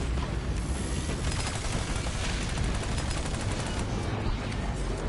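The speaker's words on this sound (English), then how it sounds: "but incoming airstrike!" Dense, continuous barrage of airstrike explosions and rapid gunfire in a Battleborn battle, loud and sustained without a break, with no speech over it.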